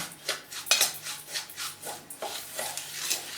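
A spoon stirs curd and semolina in a bowl, scraping and tapping against the sides in repeated close, rhythmic strokes with no talk.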